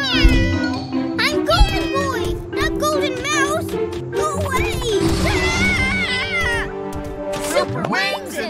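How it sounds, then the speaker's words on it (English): A cartoon cat meows repeatedly in rising and falling cries, loud and close, over a continuous musical background. "Meow. Looks like our kitty wants to play."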